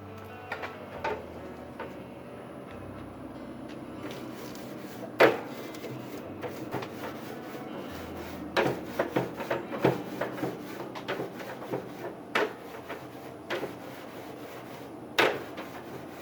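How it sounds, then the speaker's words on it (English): Scrubbing scrapes and knocks on a well-used smoker grill come as irregular close rasps and sharp clacks over a quiet background, with no talking. "Gotta make sure you scrub it clean."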